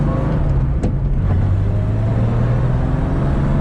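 A Safari Porsche 911 drives along a road with a loud, close engine drone and steady low rumble, its pitch shifting slightly as it cruises, with no talking.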